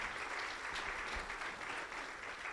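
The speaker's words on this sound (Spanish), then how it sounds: "Démosle un aplauso al Señor." A church congregation applauds after a sermon, a continuous dense wash of many hands clapping at an even, moderate level.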